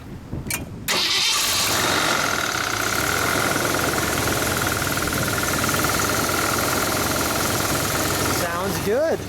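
A 1968 AMC AMX engine cranks briefly and then catches, settling into a loud steady idle with the hood open, the running engine continuing to the end.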